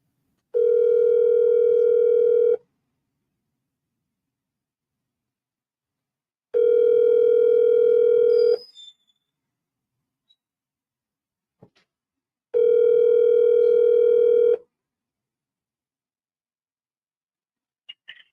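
A telephone rings back in three evenly spaced steady tones, each about two seconds long, with silence between them and faint clicks after, during a call; no voices.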